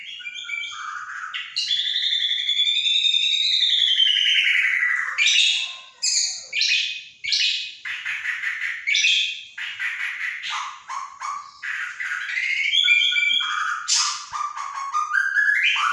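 A white-rumped shama (murai batu) sings loud, close phrases of varied whistles, rising and falling notes and rapid chattering trills, with short pauses between bursts and no talk.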